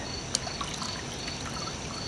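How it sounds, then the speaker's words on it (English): Water trickles and pours steadily into a container, a soft continuous splashing with a brief brighter spatter near the start. "I'm going to add more water"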